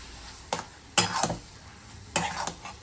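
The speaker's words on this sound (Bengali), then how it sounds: "বেগুন পোড়াটার সাথে এই মশলাটাকে ভালো করে কষাতে হবে" Roasted eggplant and spice paste are stir-fried in a pan over a faint sizzle, with three sharp scraping strokes of a utensil against the pan, close up.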